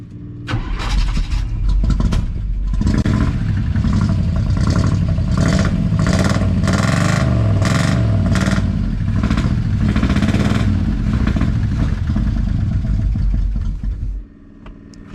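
A 1981 Chevy engine, idle for 29 years, cranks and catches, then runs roughly with repeated loud revs and a steady rumbling idle, close by, before cutting off near the end.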